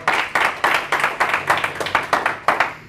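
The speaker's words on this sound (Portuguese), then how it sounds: "Uma salva de palmas para o Senhor." A church congregation claps together in a brisk, even rhythm, about ten sharp unified claps close by, with no talking, ending abruptly.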